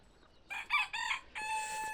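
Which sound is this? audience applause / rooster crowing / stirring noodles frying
rooster crowing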